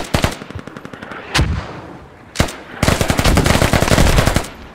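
Gunfire and mortar fire in the military shooter game Squad: rapid machine-gun bursts with a few sharp impacts, building into sustained loud automatic fire near the end.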